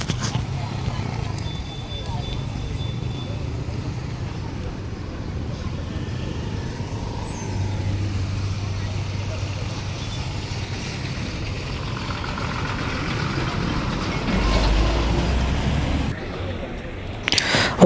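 Road traffic moving again at a highway accident site, with engines idling and vehicles passing continuously at close to middle distance, a low steady rumble throughout with occasional louder swells and some background voices.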